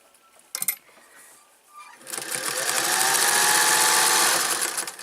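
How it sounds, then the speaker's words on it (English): Sewing machine stitching an apron pocket, starting after a brief knock and some quiet, then running steadily and loudly as a continuous close buzzing whir for the last three seconds. "make sure you're not sewing on that fold"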